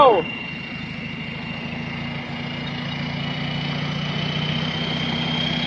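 A remapped Isuzu D-Max pickup with a stage 3 remap and 538 injectors idles steadily nearby, a constant low engine drone with a faint high whine, running alone without talk.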